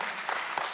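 A church congregation applauds during a lively worship service, a brief, dense burst of many hands clapping at moderate loudness, with no speech over it.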